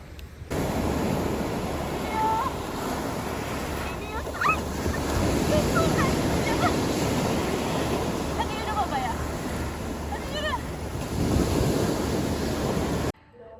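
Waves wash onto the Black Sea shore in a broad, steady roar of surf mixed with wind buffeting the microphone, continuous and fairly loud, with a few faint voices and high calls heard over it.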